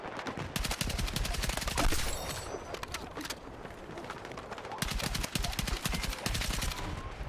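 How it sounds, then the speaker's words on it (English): Rapid automatic gunfire from the shooter game Battlefield 6, dense crackling bursts hammering sandbags up close, loud and nearly continuous with a brief lull midway before the firing resumes. "I love shooting those sandbags"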